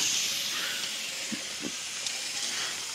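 Southern Pacific 6380 locomotive venting steam, a steady loud broadband hiss that runs the full length, with a couple of faint low knocks underneath and no talk.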